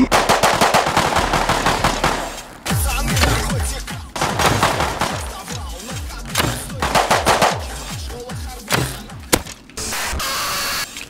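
Dense automatic gunfire from the video game Rust, rapid bursts of shots rattling almost nonstop with brief breaks, loud and close throughout.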